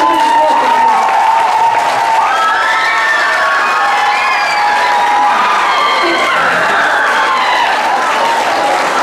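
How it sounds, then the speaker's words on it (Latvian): An audience applauds steadily and loudly for several seconds at a school team event, with cheering and children's shouts mixed into the clapping, while a presenter speaks over the crowd. "Aplausim, sagaidām pārējiem."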